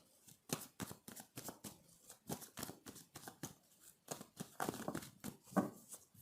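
Tarot cards riffled and shuffled by hand in quick repeated bursts, each a crisp papery flutter, close and fairly quiet, with no talking.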